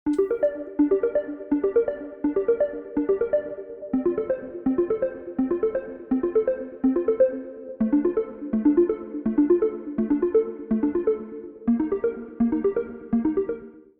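A bright synth arpeggio in the chorus of a remake of a song cycles rapid repeating notes in steady rhythmic phrases, loud and continuous, with the pattern shifting pitch every few seconds.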